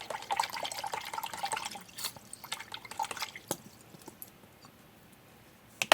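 Liquid fertilizer being stirred into water, with soft sloshing and dripping at first, then sparse faint drips and small clinks fading toward quiet, ending with a sharp tap.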